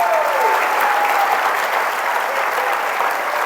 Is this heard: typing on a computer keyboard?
no